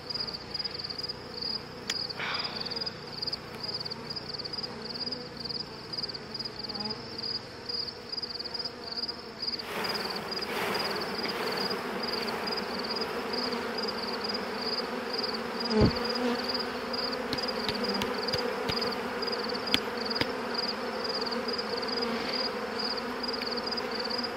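Honeybees buzz steadily inside a hive as male drones emerge from their cells, a dense, constant hum close by with a few brief louder knocks and no talk.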